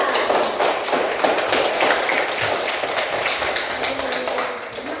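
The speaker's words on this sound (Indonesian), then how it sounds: "Beri tepuk tangan untuk dapat." Schoolchildren in a fifth-grade classroom clap together in a fast, steady burst of close, bright applause lasting the whole stretch, with no talking over it.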